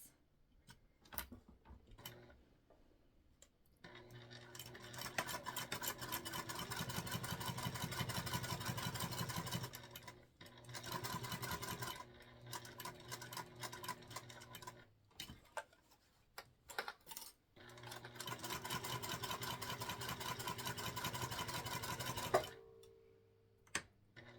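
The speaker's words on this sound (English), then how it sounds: "We're going to sew together the 1/4 inch seam allowance." Domestic sewing machine stitching a quarter-inch seam on a structured bag, running in several long bursts of rapid, even mechanical ticking with brief pauses between, close and without talking.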